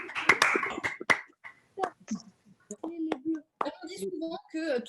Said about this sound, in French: on les applaudisse pour remercier l'ensemble des membres du jury